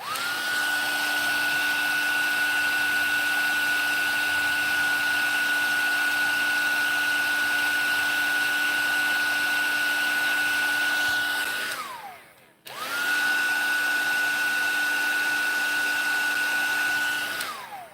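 A heat embossing tool blows hot air to melt embossing powder on paper butterflies. Its loud, steady whirring whine runs unbroken, cuts out briefly near the end and then starts up again at full strength.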